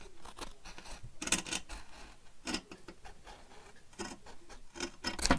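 Scissors making a series of crisp, close snipping cuts in irregular bursts, quiet and without talk.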